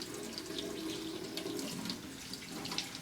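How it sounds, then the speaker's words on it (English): Warm water running steadily from a sink tap for a hand-washing demonstration, a continuous splashing stream close by with small spattering variations and no talking. "you get a warm stream of water,"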